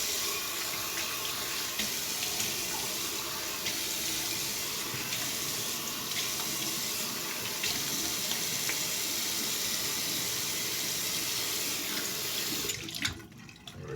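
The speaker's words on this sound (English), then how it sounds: "Cold water rinse." Cold tap water runs steadily into a bathroom sink for a post-shave rinse, a constant close splashing stream that holds for most of the stretch before cutting off near the end.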